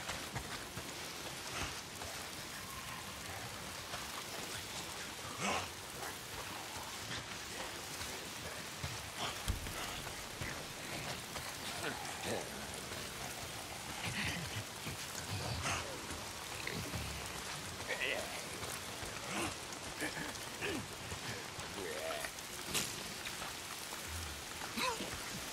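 Steady rain falling in the video game Days Gone, a dense continuous patter with scattered nearer drops striking surfaces, even in level throughout, with no talking.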